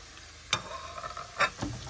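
Garlic sautéing in a pan with carrots and a spoonful of mild pepper paste, a soft steady sizzle broken by a few sharp utensil clicks and scrapes, close by.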